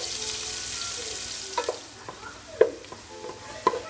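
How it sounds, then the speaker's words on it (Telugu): Onions frying in a pan until golden brown, a steady sizzle with occasional stirring clatters and spatula knocks, close and alone with no talk. "ఆనియన్స్ ఫ్రై చేసుకోవాలి. బ్రౌన్ కలర్ వచ్చే వరకు ఫ్రై చేసుకోవాలి."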